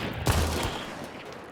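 Gunfire in the video game Hunt: Showdown, a sharp, loud shot followed by a second report and a rolling echo tail, with no other sounds.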